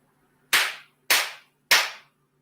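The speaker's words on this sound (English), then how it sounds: "I gotta bang the gavel on y'all." A gavel bangs three times in an even rhythm, each strike a sharp, loud, close crack that decays quickly, with near silence between the blows.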